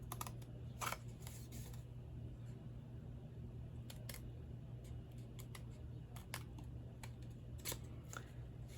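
Paper card stock being cut for a onesie baby card, heard as scattered, quiet, crisp snips and clicks against a low steady room rumble.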